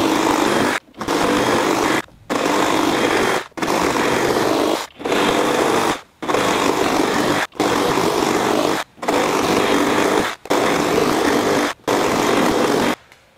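A FLEX FX2271 24V brushless reciprocating saw rips through a 4x4 in a long run of loud, rough buzzing bursts of one to two seconds each, split by brief silent gaps at a fairly regular pace.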